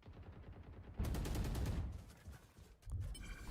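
Gunfire in an online shooter match, as bullets punch through a wall: quiet rattling, then a sudden loud burst of rapid shots starting around one second, a brief lull, and another burst near the end.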